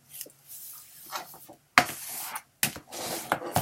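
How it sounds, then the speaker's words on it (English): Folded paper being burnished flat along its edges during a paper craft, heard as two firm, close rasping rubs after a quieter stretch of faint handling. "A good burnish. Flattens everything out."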